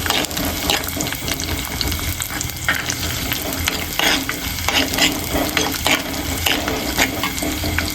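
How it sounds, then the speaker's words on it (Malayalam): Green chilies fry with chopped onion and fenugreek seeds in a hot pan for moru kachiyathu, a loud, continuous close sizzle with stirring scrapes throughout. "ഉലുവയൊക്കെ നന്നായിട്ട് ചൂടായിട്ടുണ്ടെങ്കിൽ നമുക്ക് നമ്മുടെ ഉള്ളി അരിഞ്ഞിരിക്കുന്ന ഇട്ട് കൊടുക്കാം. ജസ്റ്റ് ഒന്ന് ഇതായി വന്നു കഴിയുമ്പോഴത്തേക്കിന് നമുക്ക് പച്ചമുളക് ഇട്ട് കൊടുക്കാം."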